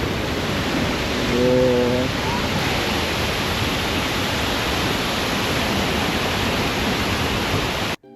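Tad Tien waterfall in southern Laos: a loud, steady roar of rushing water fills the whole stretch, broken only by a brief tonal call near the start and cut off abruptly at the end.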